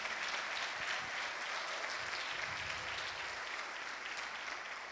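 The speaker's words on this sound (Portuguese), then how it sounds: "Se você crê, aplauda o Senhor," A church congregation claps together in steady, dense applause that fills the whole stretch at an even level, easing off slightly toward the end.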